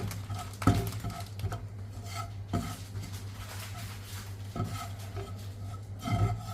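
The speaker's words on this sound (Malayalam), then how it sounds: "ഇനി അത് നമ്മൾ ഇളക്കി ശരിയാക്കണം" Alfredo pasta sauce stirred in a pan on a low simmer, soft repeated scraping and clinks of a spoon against the pan at a slow, uneven pace over a low steady hum.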